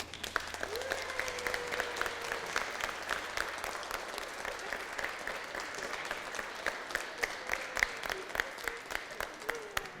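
A church congregation at a Sunday Mass breaks into dense, steady applause that fills the room for several seconds, with a few faint voices underneath.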